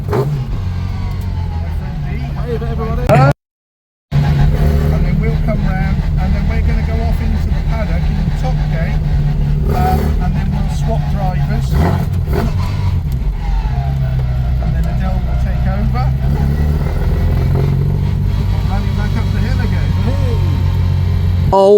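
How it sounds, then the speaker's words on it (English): A Mini racing up the Shelsley Walsh hill climb at the Hagerty Hill Climb 2025, heard from inside the car. The engine roars loudly and continuously, revving and pulling hard through gear changes, while people talk over it. "For throwing me up the hill in his Mini"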